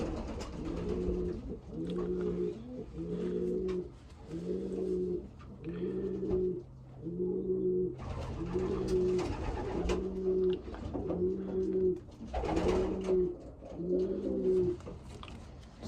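Young racing pigeon cock, a Florida derby auction bird, cooing in a steady repeated rhythm of soft rolling coos, close and clear, with no talk over it.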